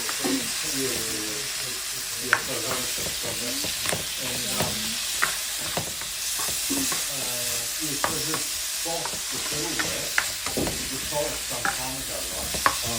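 Frozen shrimp stir-frying in a pan for a vegetable, shrimp and cashew dish, giving a steady loud sizzle broken by repeated sharp scrapes and clinks of the utensil against the pan, with no talking.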